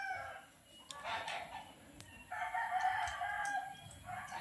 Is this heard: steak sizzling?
no